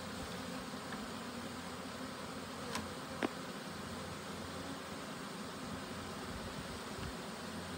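A soft, continuous buzzing hum of a honeybee swarm being poured into a hive, steady and fairly faint, with a couple of brief clicks partway through.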